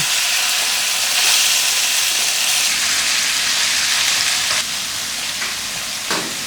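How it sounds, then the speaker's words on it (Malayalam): Loud, continuous sizzling of fish frying in hot oil, with a few sharper bursts of spattering toward the end. "ബാക്കിയുള്ളതും കൂടി ഇട്ടാണ്ട് പൊരിച്ചെടുക്കട്ടോ"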